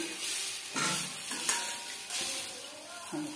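Rice flour and kalai (urad) lentil dough for sharu chukli is stirred and dragged around a pot in repeated scraping strokes, with a soft sizzling bed underneath, close and steady, no talking.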